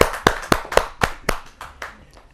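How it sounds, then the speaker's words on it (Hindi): A handful of people clap to welcome a poet at a Hindi kavi sammelan stage event, about ten sharp claps in a loose, slowing rhythm that fade toward the end, with no talk. "जहाँ जोरदार ताली के साथ स्वागत करें"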